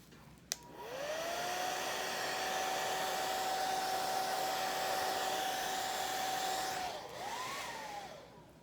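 A hair dryer dries an alcohol ink painting on black Nara paper indoors, whirring in a steady high hum for about six seconds after a click, then winding down, alone and at moderate level.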